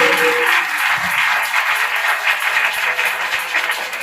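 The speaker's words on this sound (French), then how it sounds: "Acclame-toi pour Jésus." A church congregation at an evening prayer meeting applauds for Jesus, a dense, steady wash of clapping from many hands that carries evenly for about four seconds, with no voice rising above it.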